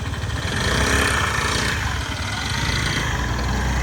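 A Suzuki Address V125 scooter engine (2018) idles close by, a steady buzzing putter with a low rhythmic chug, unbroken and fairly loud throughout.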